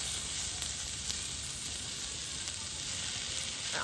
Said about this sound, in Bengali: এটা আমি পাঁচ মিনিট ধরে কিন্তু এরকমভাবে রাখবো ক্যাপসিকাম আর পেঁয়াজটা এই তাওয়ার মধ্যে